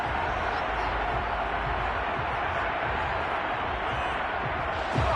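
Stadium crowd noise in the PS5 Madden football game, a continuous, even roar of a distant crowd that holds at one level throughout.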